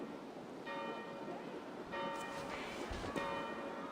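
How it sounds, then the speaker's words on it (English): Church bells ring in a medieval abbey setting within Assassin's Creed Valhalla, faint and distant, with two separate struck tones sustaining and fading under quiet ambience. "Do you not hear the bells?"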